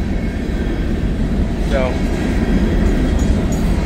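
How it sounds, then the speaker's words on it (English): An empty CSX grain train rolls slowly past, a loud, continuous low rumble of freight cars with a brief squeal partway through, close by, while someone talks over it. "got a grain train. Ain't moving too fast. It's an empty grain train."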